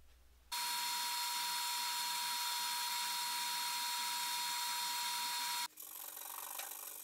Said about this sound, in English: This plywood really benefits from being sanded in every possible direction.